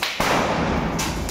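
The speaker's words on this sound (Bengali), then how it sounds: "কিন্তু সেলগুলো মাঝে মধ্যে নিচে ফাটছে উপরে চলে যাচ্ছে না এদিকে" A Diwali firework shell bursts at night with a sudden loud crack, followed by a sustained crackling hiss that fills the moment, close by and without talk.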